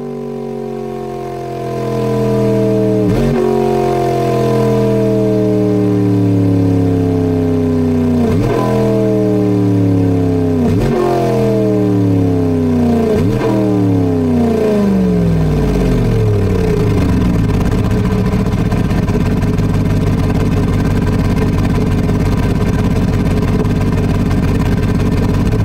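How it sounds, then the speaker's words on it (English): A computer engine simulator generates a synthetic V8 car engine, revving up through several gear-shift-like steps with rising, buzzy, distorted tones, then settling into a dense, loud, continuous roar. "this also noticeably changes the tone of the engine"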